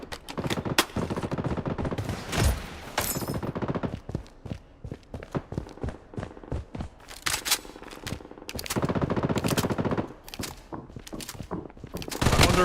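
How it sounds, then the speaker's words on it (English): Video game gunfire crackles in rapid machine-gun bursts and single shots, loud and close, separated by short quieter gaps across the whole stretch. "I'm under fire."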